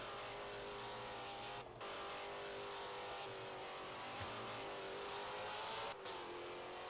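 Foxbody race cars at Laguna Seca crossing the start-finish line, a steady loud engine drone with rising revs and brief dips as cars pass close by.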